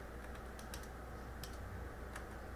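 Computer keyboard keys typed in short bursts of several crisp clicks over a steady background hum, close and fairly quiet, with no talking.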